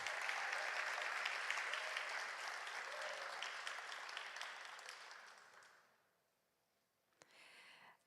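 Audience applause for students at a film festival senior awards ceremony, steady sustained clapping that fades out, then a short burst of renewed clapping.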